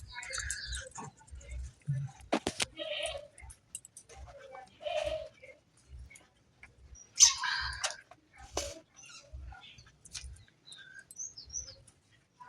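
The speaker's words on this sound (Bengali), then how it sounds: "পাখি" Birds chirp and call in short scattered bursts around a quiet home, moderately near, with low thumps and occasional faint speech between the calls.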